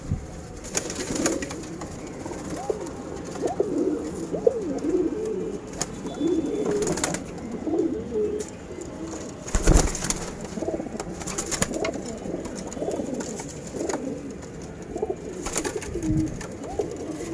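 Female pigeons in a loft coo in soft, repeated low rolling calls throughout, near and moderately loud, with occasional flaps and knocks and no talking.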